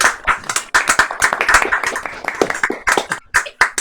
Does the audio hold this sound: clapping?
yes